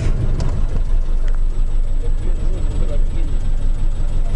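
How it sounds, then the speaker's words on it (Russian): A Subaru Baja's boxer engine runs at a smooth, even idle, loud and close, with a steady low rumble throughout. "Машина вроде работает так четко,"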